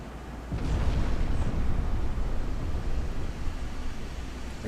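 Naval gunfire from heavy cruisers in the game Ultimate Admiral: Dreadnoughts rolls as a dense, continuous low rumble of distant artillery blasts, rising sharply after a moment and holding steady at moderate loudness.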